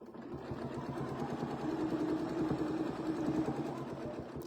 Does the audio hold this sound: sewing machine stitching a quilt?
yes